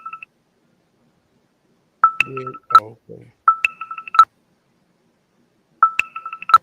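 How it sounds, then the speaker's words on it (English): Short electronic beep tones sound in repeated clusters from a Bluetooth phone, separated by silence, with a brief spoken reply in between. "maybe that's my Bluetooth phone"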